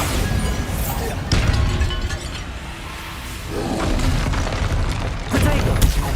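Bombarda spell blasts in the video game Hogwarts Legacy, several heavy booming impacts with crashing debris rising and falling over a few seconds, mixed with game voices.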